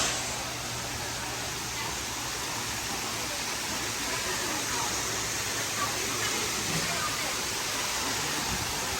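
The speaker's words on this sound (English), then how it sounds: "Beautiful waterfalls," A waterfall pours into a backyard koi pond, producing a steady, loud, broadband rushing roar that fills the whole stretch without a break.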